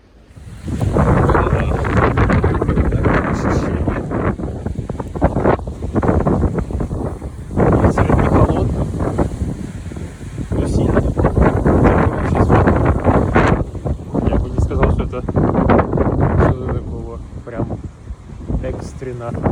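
Strong wind gusts outdoors in Prague buffet the microphone in loud, uneven rushing roars that swell and fade for the whole stretch, with a faint voice now and then underneath.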